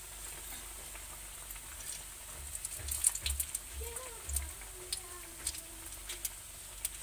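Cabbage and gram flour fritters frying in hot oil, a faint steady sizzle with scattered pops and crackles, quiet and close, with no talk.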